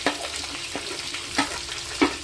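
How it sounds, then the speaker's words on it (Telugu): Green chillies and onions with ginger frying in oil, a continuous hissing sizzle up close, with a few scraping stirs of a spatula against the pan. "ఇప్పుడు బాగా కొంచెం కలర్ బాగా మగ్గినంత వరకు కూడా వేపుకోవాలన్నమాట"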